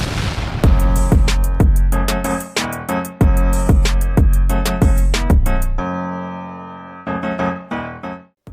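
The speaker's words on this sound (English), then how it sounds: "Explosion." An explosion sound effect: a rapid series of loud, sharp booms and blasts, each decaying quickly, in dense bursts before a brief lull and a few final cracks.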